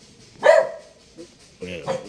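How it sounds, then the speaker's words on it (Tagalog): Noisy dog barking, a couple of sharp barks close by mixed with someone talking nearby. "May maingay aso. Ayan. Natahulan ako."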